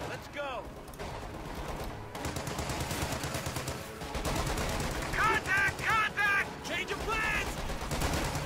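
Rapid bursts of .30 caliber machine gun fire in a World War II strategy game, loud and sustained with rattling volleys and distant shots, mixed with battlefield shouting and voices.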